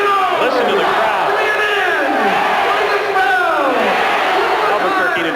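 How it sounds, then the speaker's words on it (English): Loud, roaring indoor crowd at a 1989 AISA championship soccer game between the Canton Invaders and Chicago Power, with sustained cheering, whoops and rising shouts filling the arena continuously. "Listen to the crowd."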